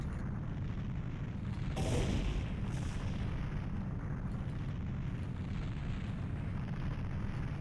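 A single deep bomb blast in a 3D Zelda game booms out once, a muffled low thump that swells and fades against a steady rumbling background hum.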